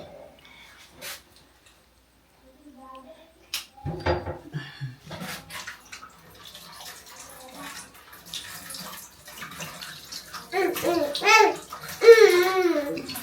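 Tap water runs and splashes while a banana is rinsed in a home kitchen, starting faint with scattered knocks, then becoming a louder close stream as a small child babbles nearby.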